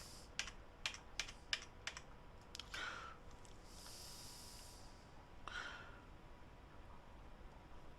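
A computer keyboard clicks through a quick run of crisp keystrokes as accounting entries go into financial software, then a few scattered taps and soft clicks follow in a quiet room.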